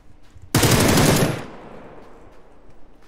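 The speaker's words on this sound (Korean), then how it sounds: "3번 쪽 총소리 많이 난다." Video game gunfire: a loud, rapid automatic burst lasting about a second, then a decaying echo tail and quiet afterward.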